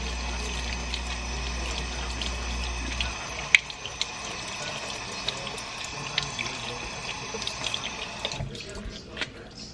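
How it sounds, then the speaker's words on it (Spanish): Running tap water pours steadily into a sink as a makeup brush is rinsed, a continuous close splashing hiss with a low hum early on and small clicks and drips near the end, no talk. "Y ahora sí la voy a enjuagar."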